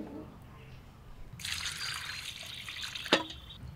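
Goat trotters rinsed under running water: after a quiet start with faint talking, a tap begins to trickle and splash steadily up close, with one sharp knock near the end.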